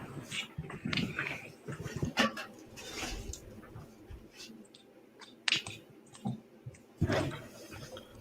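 A dog barks indoors in short, scattered bursts over several seconds, mixed with light clicking sounds and occasional whimpers, fairly quiet and close.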